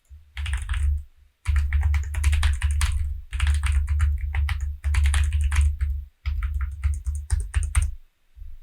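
Rapid clicking of keys on a computer keyboard, typed in steady bursts with a few short pauses, close and clear.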